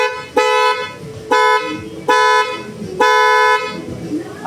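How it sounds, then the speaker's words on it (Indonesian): A Flosser car horn blares in four loud, close honks of roughly half a second to a second each, its bright multi-tone blast separated by short gaps. "Nah, ini adalah klakson closer ya guys."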